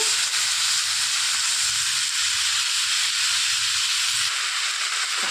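Raw banana pieces frying in hot oil in a pan seasoned with asafoetida, a steady, loud, close hiss and sizzle that runs unbroken with no talking.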